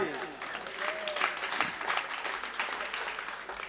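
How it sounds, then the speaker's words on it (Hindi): Thin, scattered applause from an audience at a Hindi comic poetry gathering, light and uneven, with voices mixed in beneath the claps. "कमजोर तालियां हैं आपकी"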